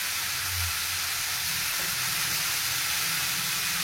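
Tandoori chicken pieces fry in a pan with a steady, even hiss and sizzle that holds unbroken for a few seconds at a moderate level, with no voices over it.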